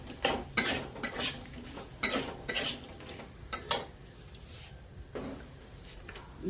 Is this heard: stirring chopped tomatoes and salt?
yes